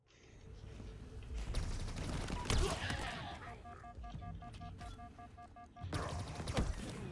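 Bursts of gunfire from Halo Infinite gameplay fill the mix alongside heavy combat effects, with a rapid rhythmic stutter of automatic fire partway through and thumping impacts, dense and loud throughout.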